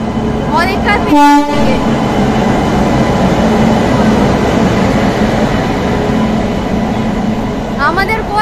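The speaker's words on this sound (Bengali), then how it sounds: "এই যে আমাদের ট্রেন ঢুকে গেছে" A passenger train pulls into a station platform with a continuous heavy rumble and rattle, a horn blast near the start and another faint honk at the end, while people talk nearby.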